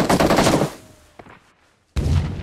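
Automatic gunfire in the mobile battle royale game PUBG Mobile, in an Iron Man armor mode: a loud rapid burst of shots that fades into a short lull, then a second loud burst starts.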